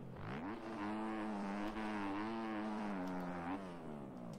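A 250 dirt bike laps a private riding compound, its engine note rising and falling through repeated revving and gear changes, loud and steady throughout with no talk.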